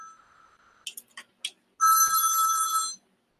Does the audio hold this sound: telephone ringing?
yes